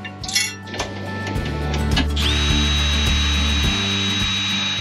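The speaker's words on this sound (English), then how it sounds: "Came with self-tapping screws, so I can just screw them right into the frame." A power drill drives self-tapping screws into a travel trailer's metal frame, with a few light clinks before the motor spins up and holds a steady high whine close by.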